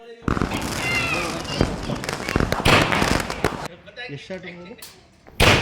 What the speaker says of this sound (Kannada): ಪಟಾಕಿ ಎಲ್ಲನೂ ಹೊಡಿಸಿದ್ವಲ್ಲ.